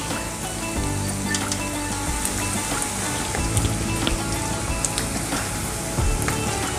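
Chironji and nuts roasting in a pan for Eid sheer khurma give a steady, close crackling sizzle with light scattered pops, continuing evenly throughout with no talk.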